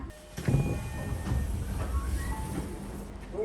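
A Tokyo rail line train running toward Kita-Ayase, a steady rumbling roll with faint clatter and brief tonal whines, heard from on board at moderate level without talk.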